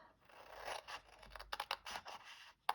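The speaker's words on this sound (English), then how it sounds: "Get our little scissors, and we're going to start by making the base of the box." Small scissors snipping through card up to the score lines, producing a series of crisp, close cuts and scraping blade strokes in an uneven rhythm with short pauses between them.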